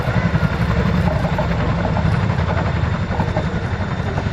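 A Chinook tandem-rotor helicopter at the RAF Cosford Air Show gives off a loud, continuous rotor and turbine roar with a throbbing low beat, steady throughout and close, with no voices.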